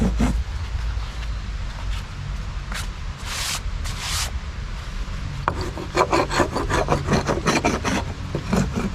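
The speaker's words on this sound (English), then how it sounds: "And I'm scraping it onto my shirt." Fatwood shavings are scraped off with a blade onto a shirt, making close rasping strokes with a few sharper scrapes, then a fast steady run of short repeated scrapes.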